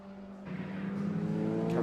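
Race cars, among them a Honda Civic and a Ford Sierra RS500 Cosworth, drone past on the Snetterton circuit during a BRSCC meeting, with the engine note swelling steadily louder over the short span.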